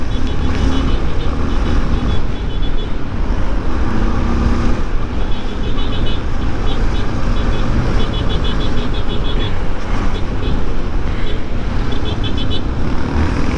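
Honda XR and Lander 250 dirt motorcycles ride together, their engines droning loudly and steadily with strong wind rush from an onboard position, while a rider talks faintly underneath.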